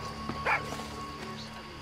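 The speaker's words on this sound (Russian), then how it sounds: "Что ты гавкаешь здесь?" A dog gives a single short bark in the Far Cry 6 video game, heard over steady background game sound and music tones.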